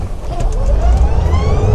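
Polaris Ranger Kinetic electric utility vehicle pulling away hard, a rising electric motor whine over heavy low rumble and wind buffeting, loud and close.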